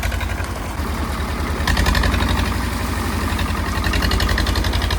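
A Sonalika tractor with a loader runs continuously at a steady, loud, close-up drone, with a low rumbling throb and no speech.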